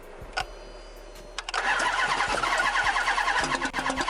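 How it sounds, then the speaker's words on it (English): A 2005 Chrysler 300C with a 5.7L engine cranks briefly, then catches and settles into a loud, steady rumble close by, with no talking. "I went ahead and tried to start it with throttle and without throttle."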